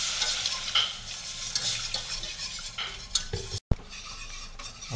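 Milk being stirred into flour for a béchamel sauce makes soft scraping and swishing from a utensil against the pot, with light clinks and a brief sharp knock near the end, fairly quiet and without voices.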